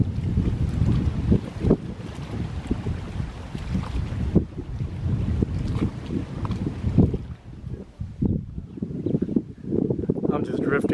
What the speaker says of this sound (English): The wind is behind me, well, behind the camera here, so it should be blowing me this direction toward the mooring field.